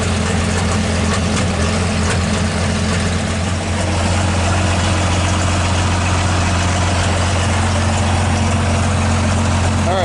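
A Cummins diesel pull truck idles with its exhaust unhooked underneath, giving a loud, steady, rumbling drone that runs unbroken and close for the whole ten seconds.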